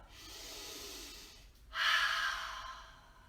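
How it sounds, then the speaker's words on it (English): A person breathes during a yoga practice: a soft inhale, then a long, forceful open-mouth exhale like fogging a mirror. The breath is close and airy, louder on the out-breath, with no speech. "So take your inhale and exhale like you're fogging a mirror."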